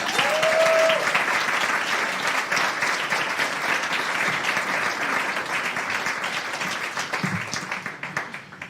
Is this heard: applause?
yes